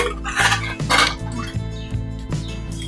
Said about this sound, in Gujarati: કુકરનું ઢાંકણ બંધ કરી દઈશું